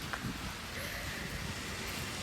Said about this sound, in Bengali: গাইস, প্রচন্ড বৃষ্টি হচ্ছে গাইস